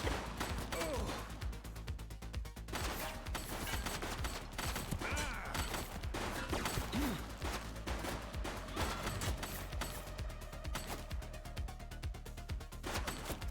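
A suspect firing in the police video game The Precinct: rapid bursts of gunshots, near and loud, repeated across the span with crashes and clanking mechanisms mixed into busy game ambience.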